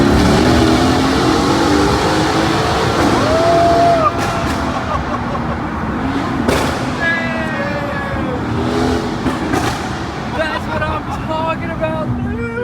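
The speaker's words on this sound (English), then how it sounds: "Let me put it in race mode, do some paddle shifting through the tunnel." Mercedes-AMG GT S engine in race mode, revving and upshifting with paddle shifts as it runs through a tunnel, loud and echoing throughout, with people talking over it.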